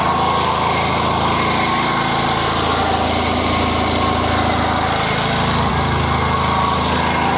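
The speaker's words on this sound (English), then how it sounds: "Engine's working really well." A vintage JAP 55 stationary engine running a generator for a lighting rig runs steadily with a throbbing, even drone, loud and close, with no pauses or changes in pace.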